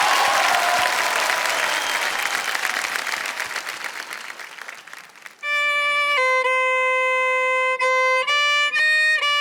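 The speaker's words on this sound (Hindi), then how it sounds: "तालियां बज जाए इनके लिए, रोशन जी के लिए।" Studio audience applause for violinist Roshan on a TV quiz show set, a dense wash of clapping that gradually thins out before sustained violin notes take over for the second half.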